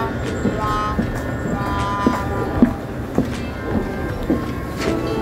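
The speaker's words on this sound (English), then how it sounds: "The train will start and close its door" A Tokyo commuter train in a station begins to depart, with rhythmic clanks and clicks from the doors and wheels over a steady rumble, close and fairly loud.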